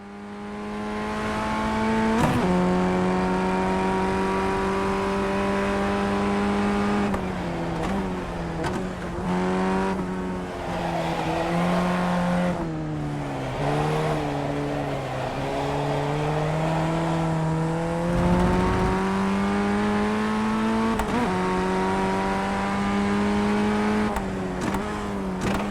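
A racing car in the iRacing sim on a loose street-style circuit, its engine droning loud and steady throughout with pitch rising and dipping through gear changes and corners, no talk.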